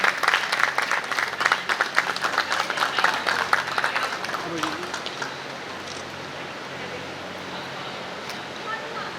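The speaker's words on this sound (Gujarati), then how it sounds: "જોરદાર તાળીઓના નાદ સાથે આપણે એમના સન્માનને આપણે વધાવી લઈએ" Applause from the audience at a community ceremony honouring elders and donors: brisk clapping for about four seconds that fades into a low room hum with faint murmuring.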